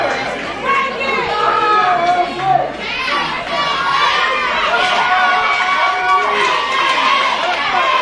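A dense wrestling-match crowd roars and chatters continuously, high excited shouts and cheers layered into a loud, sustained wall of noise, with a commentator's voice running beneath it.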